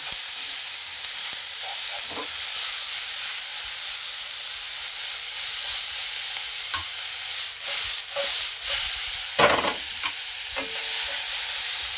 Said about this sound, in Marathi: आता आपण अद्रक लसूण वाटलेली ही पेस्ट ही टाकून घ्यायची। व्यवस्थित असं ह्यांना फ्राय करायचं।